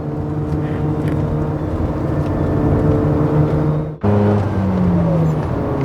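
A 1993 Mazda RX7 FD is driven, its engine droning steadily from inside the cabin, pitch shifting abruptly around a gear change near the end.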